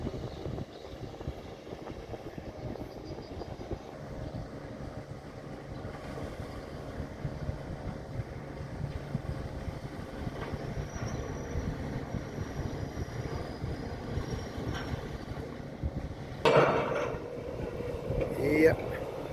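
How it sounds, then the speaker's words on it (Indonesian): A ferry approaches a crossing dock: a low, continuous engine rumble mixed with wind buffeting, and a louder surge of machinery near the end. "ini kapal ferinya sudah hampir merapat teman-teman ya"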